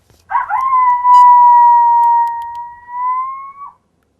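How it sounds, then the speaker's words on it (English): A coyote howl call, played through a caller to draw predators during a hunt, rises into one long sustained howl held steady for about three seconds, then drops off. It is loud and clear against an otherwise quiet outdoor background. "So I'll start with the coyote howl and see if I get a response out of female."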